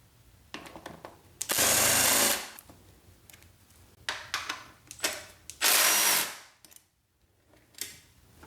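A power tool takes bolts off the side fairing of a Yamaha R6 motorcycle, sending out short, loud bursts of whirring. Quieter clicks and fiddling fill the gaps between bursts.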